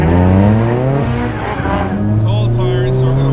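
Race car engine droning loud and close as it laps a track on cold tires at Ebisu, pitch sweeping up and down through gear changes, with tire squeal and a voice talking over it.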